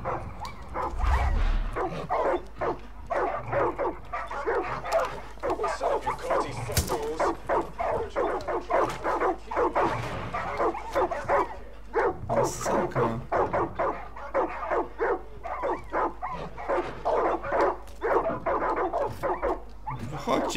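A pack of dogs in Far Cry 5 keeps up steady barking and yipping, with a few whimpers mixed in, close and constant from start to finish while someone speaks throughout.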